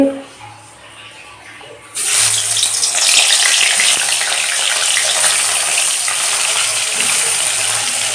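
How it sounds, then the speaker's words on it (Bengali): Hilsa fish coated in salt and turmeric fries in hot oil in a wok, bursting into a loud, dense sizzle after a quiet start and crackling steadily to the end with occasional pops. "কড়াই এদিকে তেল বসিয়ে দিয়েছি এদিকে মাছ ভাজা হচ্ছে"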